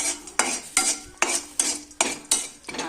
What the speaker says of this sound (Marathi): आता हा खडा मसाला थोडासा गरम करून घेणार आहोत, एकदम थोडासा.